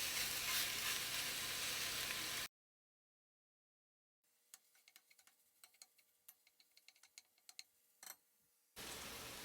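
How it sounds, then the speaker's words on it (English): Sausage frying in a pan for a biscuits and sausage gravy ring: a steady, dense sizzle up close, then a cut to silence, then sparse crackling pops and spits before the loud sizzle returns. "While that sausage is cooking over there"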